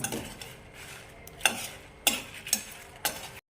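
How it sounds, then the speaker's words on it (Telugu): Coriander seeds, cumin and dried red chillies being dry-fried in a pan on a low flame, with a faint sizzle under several sharp stirring scrapes and clinks of a spoon against the pan. "చిన్నగా స్విమ్ మీద పెట్టుకొని ఫ్రై చేసుకోవాలి."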